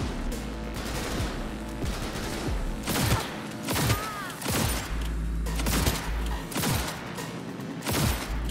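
Gunfire in the video game Cyberpunk 2077, a run of sharp, loud shots in irregular bursts, some closely spaced, over a continuous low game background hum.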